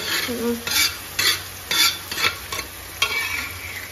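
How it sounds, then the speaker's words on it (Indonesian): Spice paste for an eggplant dish being stir-fried, quiet sizzling broken by brisk spatula scrapes and stirring bursts in an uneven rhythm, close by, with no talking. "Bumbunya kita gongso dulu, kita tumis dulu."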